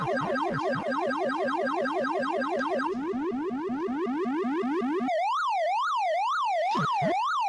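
Loud, rapid electronic chirping repeats in a fast, steady rhythm, then gives way to a rising and falling siren-like warble from Pac-Man, an old arcade maze game, on a Vic 20.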